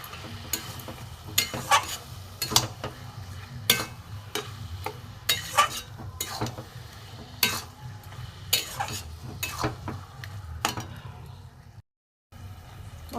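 Semolina is stirred and fried in a pan for steamed pitha. A spoon scrapes in quick, irregular strokes over a soft, continuous sizzle, close and fairly quiet, with no talking.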